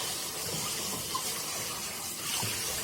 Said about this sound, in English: This is all it takes to wash chicken.